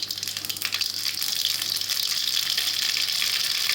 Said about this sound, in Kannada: ಎಣ್ಣೆ ಕಾದಿದೆ. ಈಗ ಸ್ವಲ್ಪ ಸಾಸಿವೆ,